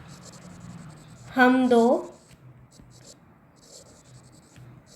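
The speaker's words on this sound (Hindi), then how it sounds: "दोबारा से लिखती हूँ" Writing on a board during a biology lesson gives faint, short scratchy strokes in scattered bursts, with a voice speaking briefly in between.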